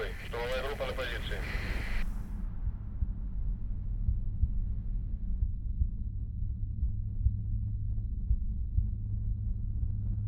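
A muffled heartbeat is heard in a scene from a Russian crime thriller film. A brief voice at the start gives way to a low, dull throbbing with soft, regular pulses under a hum.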